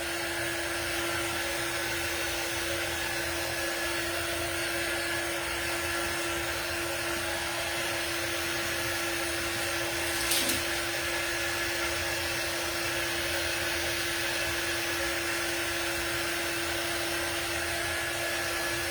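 A dryer blows steadily to dry a Dollar Tree fall oval craft sign, giving a constant loud whirring hiss with a steady whine, broken briefly once by a small bump.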